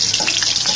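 Chopped onions dropped into hot oil in a wok, giving a bright, steady sizzle with crackling pops, close and loud with no talk.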